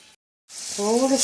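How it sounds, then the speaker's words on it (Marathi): Water goes into a hot pan of freshly cut new potatoes and sets off a loud, rising sizzle that swells after a brief silence, with a faint voice in the background. "आणि थोडं त्याच्यामध्ये पाणी घालते"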